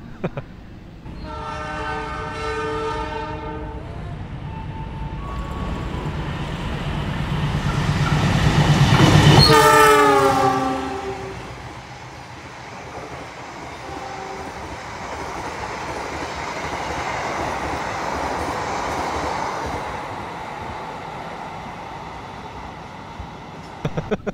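A train horn blares nearby, then the Argo Lawu passenger train from Solo Balapan to Gambir roars past with rising rumble and clacking wheels before fading to a steady distant rattle.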